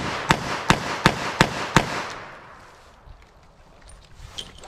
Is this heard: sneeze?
no